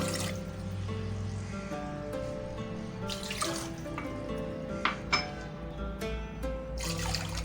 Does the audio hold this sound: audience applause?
no